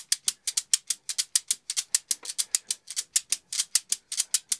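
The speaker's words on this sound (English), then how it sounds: "here's the abacus" Abacus beads clicking in a quick swinging rhythm, a steady train of sharp, bright, close clacks with no voices.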